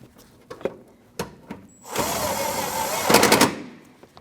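A power tool drives an 8mm bolt into the left fender well of a 2014–2023 Jeep Cherokee: one close, sustained whirring burst of about a second and a half that ends in a louder rattling surge, set among scattered clicks and knocks.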